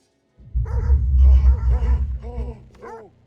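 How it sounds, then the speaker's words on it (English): A dog in the horror video game The Devil in Me gives a run of whining, yipping vocalizations over about three seconds, fairly close and loud, with a voice talking over part of it. "There's a dog. Hey, boy."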